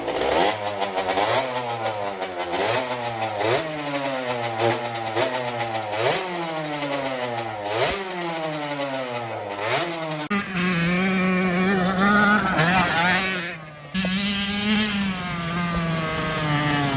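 A custom Honda TRX90 quad fitted with a CR85 two-stroke engine is ridden, revving up and down repeatedly in rising, falling sweeps, loud and close throughout.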